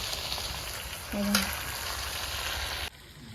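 Pieces of mutton and liver sauté in oil that has separated out, producing a constant dense sizzle heard close up. A brief tonal clink sounds partway through, and the sizzle drops suddenly near the end.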